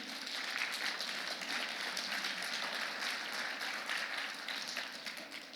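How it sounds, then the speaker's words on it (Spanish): A church congregation applauding during a sermon, a dense, even patter of many hands clapping steadily for several seconds at moderate distance, with no speech over it. "¿Por qué le dan un aplauso a Dios?"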